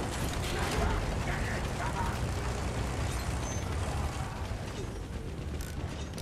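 Clanking, ratcheting repair tool working on a tank in the Battlefield 1 video game, a steady dense mechanical rattle that runs without a break under game noise.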